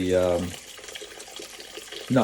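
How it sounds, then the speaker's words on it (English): Hot water runs from a sink tap as CPAP mask parts are rinsed, a steady close hiss framed by short tonal voice sounds at the start and the end. "I rinse this off every day in the sink"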